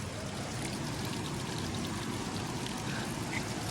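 Steady rush of natural spring water flowing from the hills at Hathni Mata Waterfall near Vadodara, constant and full, with no voices over it.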